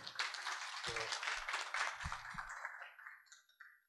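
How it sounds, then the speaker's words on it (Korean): Audience at a 2017 digital publishing seminar in Korea applauding to welcome a presenter from Korea Publishing Contents, a burst of steady clapping with a brief voice that fades out near the end. "큰 박수로 맞이해 주시면 감사하겠습니다"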